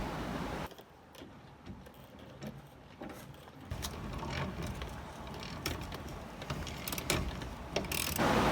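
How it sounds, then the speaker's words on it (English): Ratchet wrench clicking as bolts holding the hanger bearing are removed on an Isuzu D-Max during drive shaft removal, a steady run of small ticking clicks, close and moderately loud, with no talk. "Then you need to take out your 2 bolts holding up the hanger bearing."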